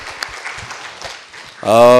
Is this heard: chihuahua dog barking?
no